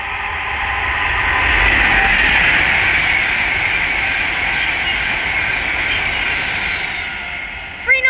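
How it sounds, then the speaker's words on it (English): An Avanti West Coast Class 390 Pendolino on a London Euston to Manchester Piccadilly service passes on the West Coast Main Line at Bletchley, a loud sustained rushing roar with a hissing wheel tone that swells, holds, then fades slightly before a few closing clicks. "down there is an Avanti West Coast Class 390 Pendolino working service from London Euston"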